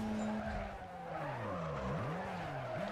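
Tires screech through drift turns in the racing game Need for Speed Carbon, a loud wavering squeal bending up and down in pitch over a constant engine drone, with no talk.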